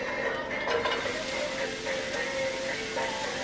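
Onions and zucchini sizzle in avocado oil in a pan, a continuous close, moderate frying hiss with faint clinks and a background hum.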